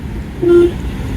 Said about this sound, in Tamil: ஹார்ன் கொடுங்க